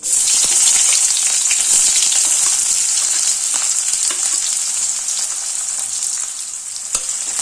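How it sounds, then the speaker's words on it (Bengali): Sliced onions fry in mustard oil in a kadai with a loud, bright, steady hiss that eases a little over time, broken by occasional clicks of stirring. "পেঁয়াজ কুচিটা দিয়ে দিচ্ছি"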